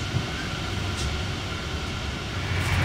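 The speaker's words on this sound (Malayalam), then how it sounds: "ട്രെയിൻ പുറപ്പെടുകയായി." Train pulling out in the early-morning dark in Italy, bound for Venice Santa Lucia station: a steady low rumble of rolling stock with broadband noise, even and continuous throughout, swelling slightly toward the end.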